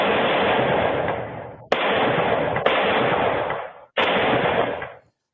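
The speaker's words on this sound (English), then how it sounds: "Ring video captured the sound of gunfire early this morning in Shorewood" Gunfire recorded by a home doorbell camera in Shorewood early in the morning during a police shooting: long continuous bursts of rapid shots, loud and close, broken by brief gaps, with no talk.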